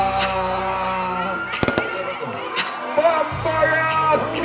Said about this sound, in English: Light up fireworks, my friend.